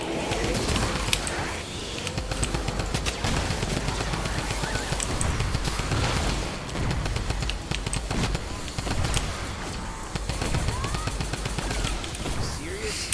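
Typewriter weapon in Fortnite Save the World firing in dense, continuous rapid bursts with a busy wash of effects throughout, loud and steady, a voice talking faintly beneath.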